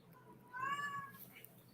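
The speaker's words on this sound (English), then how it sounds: "Y'all hear this cat? I think this cat is in heat again." A cat in heat gives one drawn-out, wavering meow, fairly close and clear, with faint room noise around it.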